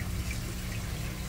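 Water trickles and gurgles beneath a divider in a recirculating aquaculture filter tank, a faint, steady flow with soft splashy texture close by.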